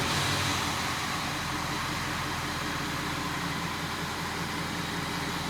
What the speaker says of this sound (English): let's go ahead and start it up and make sure there's no check engine lights